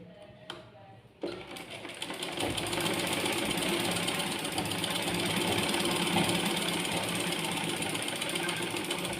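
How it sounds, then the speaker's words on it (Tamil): A sewing machine stitches release tucks in fabric. After a few faint clicks it settles into a steady, close, rapid mechanical chatter that runs on without a break. "நம்ம ஒரு பக்கம் வந்து ஸ்டிச் பண்ணி முடிச்சிட்டேன்"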